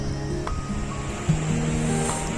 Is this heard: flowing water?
yes